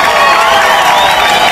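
Studio crowd at an album launch clapping and cheering, a dense, loud wash of hands and voices held steady throughout.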